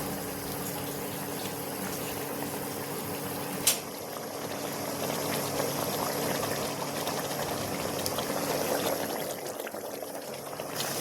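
A pan of fish curry gravy made with taro leaves boils steadily on the stove, a continuous bubbling hiss close by with one brief clink partway through and no voices.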